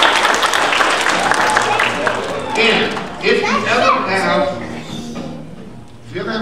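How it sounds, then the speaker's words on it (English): Applause for firefighters at a school fire-safety assembly fills the first seconds as a dense wash of clapping; voices break through in the middle before the clapping swells again and trails off. "Nice round of applause for my friends, the firefighters"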